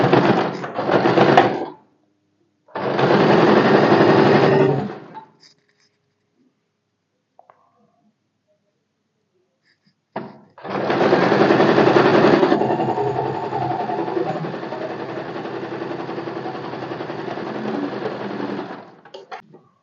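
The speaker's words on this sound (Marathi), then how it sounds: "शिलाईवर बरोबर हा फोल्ड ठेवायचा. शिलाई हाईड झाली पाहिजे त्याच्या आतमध्ये असा ठेवायचा आणि बरोबर कडेने स्टिच मारून घ्यायचा." Sewing machine stitching a blouse lining along the fold, running in three bursts: two short runs, a pause, then a longer steady whirring stretch, close and clear.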